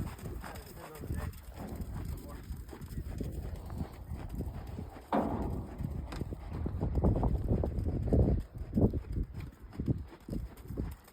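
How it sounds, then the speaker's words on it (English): A horse trotting with rhythmic hoof clip-clops, heard up close under wind buffeting the microphone, with a person talking over the footfalls. "a pretty comfy horse to sit the trot on"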